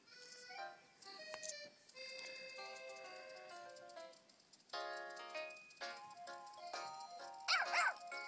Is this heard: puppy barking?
yes